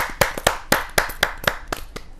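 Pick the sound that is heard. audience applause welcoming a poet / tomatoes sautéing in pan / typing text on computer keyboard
audience applause welcoming a poet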